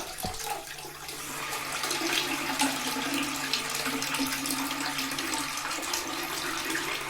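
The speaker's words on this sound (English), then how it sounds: "And what we do is just pull a little bit of water through" Water runs steadily into a toilet pan during a cloakroom install, a continuous close trickling and splashing wash that holds at an even level throughout.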